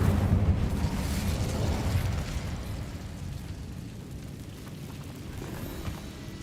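An Incendio fire spell from Hogwarts Legacy erupts in a loud, whooshing roar of flame with deep rumble, strongest at the start and then fading gradually into a lower crackling hiss.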